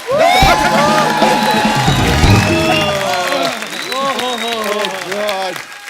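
Studio audience on the Hindi comedy talk show The Kapil Sharma Show claps and cheers loudly and steadily, with whoops and a voice speaking over the crowd throughout.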